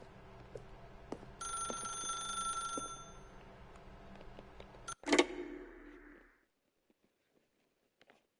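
A telephone bell rings in repeated bursts inside The Stanley Parable, clear over a low room hum, then a sharp clunk as the receiver is picked up, followed by quiet.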